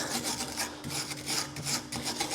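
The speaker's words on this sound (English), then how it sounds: "just give these a really good clean up. With a wire brush" A wire brush scrubs a brake caliper carrier from a Renault Trafic clamped in a bench vise, giving steady, close rasping strokes in quick repeated bursts with no talking.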